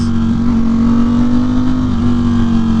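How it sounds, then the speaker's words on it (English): A Ducati Streetfighter V4 with a CS Racing aftermarket exhaust drones loudly and steadily at close range, its deep exhaust note holding nearly constant with slight shifts in pitch. "that CS Racing exhaust sounds phenomenal"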